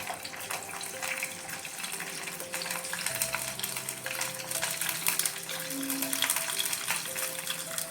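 Thick coconut milk poured into a hot, sizzling pan while cooking Chicken Nirvana, giving a steady close liquid rush and frying hiss that builds slightly over several seconds, with no talking.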